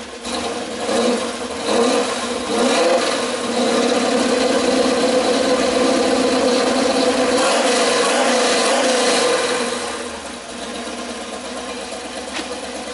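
A Corvette engine that sat unused for seven years runs steadily nearby, a rough rumbling idle that swells with a couple of revs before settling back, with no talking over it.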